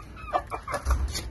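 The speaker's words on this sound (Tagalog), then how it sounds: "Ayan yung mabait na manok natin guys." A chicken clucks close by, several short soft clucks in quick succession, with no voices.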